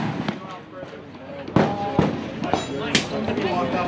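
Rifle shots at an outdoor shooting range, sharp reports cracking out in an irregular series of several shots at moderate distance, with people talking between and over them.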